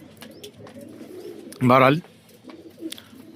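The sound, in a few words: pigeons cooing in a loft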